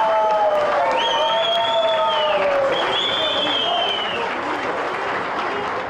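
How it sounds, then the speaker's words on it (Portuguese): Applause and cheering in a packed city hall meeting room as football club officials and fans gather, a steady loud crowd wash with shouting voices and whistles on top. "Eles foram recebidos com muitos aplausos na sala de reuniões da prefeitura."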